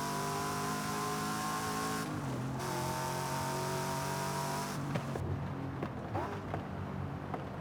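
A Saleen sports car engine in Forza Horizon 5 holds a steady, loud revving drone with a brief dip in pitch, then shifts and trails off near the end, heard alone without talk.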